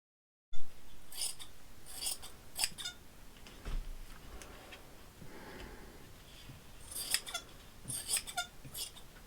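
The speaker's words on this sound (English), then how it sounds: "So cut it and then sand it." A fiberglass hydrofoil fuselage's trailing edge gets worked by hand, close and fairly quiet, with intermittent scratchy rasping strokes and sharp little ticks in irregular clusters and pauses between them.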